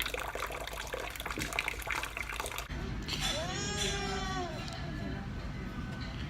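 Water pours and splashes steadily during watering, then settles into a softer, continuous flow while a voice briefly speaks over it nearby.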